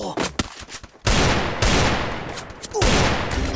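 Gunfire in the mobile battle-royale game Free Fire cracks out in loud bursts and rapid volleys, with sharp shots separated by short gaps and a voice speaking between them.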